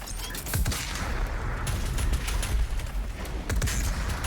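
Rapid gunfire in the video game Doom Eternal, dense continuous bursts of loud shots and explosive blasts filling the whole stretch, close and with no talk.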